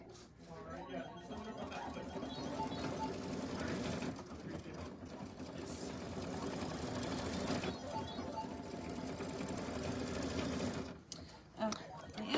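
An embroidery machine stitches steadily with a fast mechanical whir and rattle, holding an even drone for about eleven seconds before it stops and a few clunks follow.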